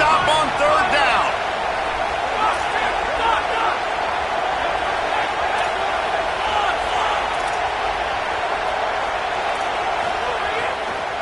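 Football stadium crowd roaring on a third down at Auburn, a dense sustained cheer filling the whole stretch, loud and steady with a commentator talking over it.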